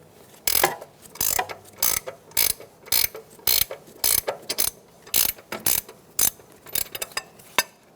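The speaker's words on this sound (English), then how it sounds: "Using an 18mm wrench, we're going to loosen the upper ball joint nut." An 18mm ratcheting wrench works loose the upper ball joint nut on a 2014-2018 Chevrolet Silverado control arm, giving repeated short ratchet clicks in a steady rhythm of bursts, close and clear with no talking.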